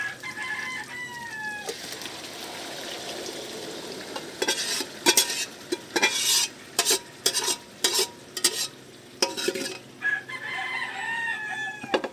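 Pre-cooked, sautéed meat is tipped into a pot and stirred, giving a run of sharp scraping and clattering strokes in the middle. A rooster crows near the start and again near the end.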